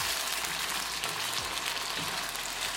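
Fried shrimp rice with hoisin and soy sauce being mixed in a hot pan: a constant close sizzle with soft stirring scrapes underneath, no voices.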